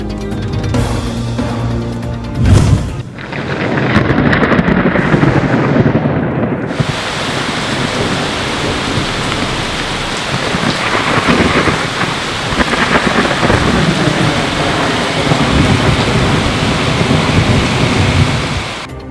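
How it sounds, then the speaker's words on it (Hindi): Heavy rain and a thunderstorm over Rawalpindi, Pakistan, with a loud downpour roaring steadily after an opening thunder crack, continuous and close throughout. "रावलपिंडी में बादल जमकर बरसे।"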